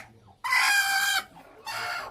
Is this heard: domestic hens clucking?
yes